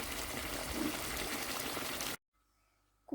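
Water is poured into a pressure cooker holding nihari, a steady splashing rush for about two seconds that stops abruptly, leaving near silence before a faint clink.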